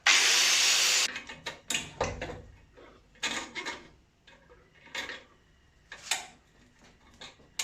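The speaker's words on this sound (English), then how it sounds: "So let's grind this weld off." Angle grinder cutting away a weld on a BMW wastegate with basic home tools, a long continuous whine at the start followed by a series of short, sharp grinding bursts close by, with no talking.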